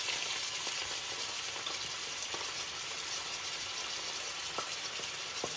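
Two medium onions fry in oil for a fish curry, giving a steady, even sizzle with a few faint clicks scattered through it and no talking.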